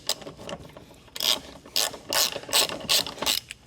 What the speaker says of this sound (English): We're going to go ahead and knock out